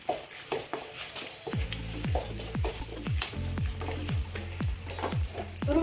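Lentils sizzle and crackle as they fry in hot oil for an amla pulihora tempering, with repeated stirring scrapes and utensil taps over a steady close frying hiss.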